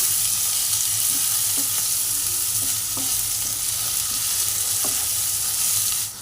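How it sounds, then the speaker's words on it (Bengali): Garlic frying and being stirred with gathi kochu (taro) in a pan for a shrimp and taro dish, a steady close sizzle with scattered light scraping taps of the spatula, no talking. "আর তার সঙ্গে রসুনটাও আমি দিয়ে দিচ্ছি। দিয়ে ভালো করে এর সঙ্গে মিশিয়ে নেব।"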